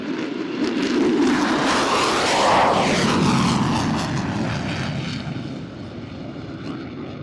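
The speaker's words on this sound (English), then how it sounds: "feel and hear the thunder of his Pratt & Whitney engine as he passes show center at max" A Lockheed F-35C stealth fighter with a Pratt & Whitney engine roars past show center at an NAS Oceana air show, a loud sustained thunder that swells with a sweeping Doppler shift and slowly fades.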